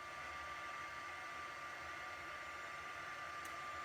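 A craft heat tool blows steadily on embossing powder, a constant loud whooshing hiss like a hair dryer with an even hum, running alone without pause.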